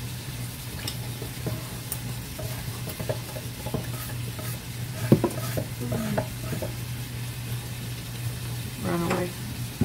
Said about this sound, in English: in this pan I've just got chopped up onions and then chopped up mushrooms